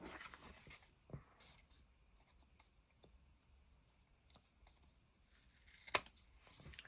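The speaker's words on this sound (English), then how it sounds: "ta-da, the new Tim Holtz scissors" New Tim Holtz craft scissors snip through paper for a junk journal tag folio, giving faint, sparse cuts with a couple of sharper clicks against a very quiet room.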